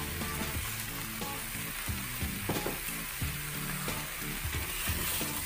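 Fresh basil leaves hit dried-out spice paste in a hot pan for shredded basil chicken, with lime leaves in the mix, giving a loud, steady, close sizzle with stirring over a low background hum and no talking.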